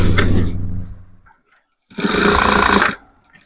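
A sewing machine runs in two close, loud bursts as it stitches a blouse neckline in a diamond shape. A steady mechanical whir lasts about a second, then a short pause, then a second run of about a second.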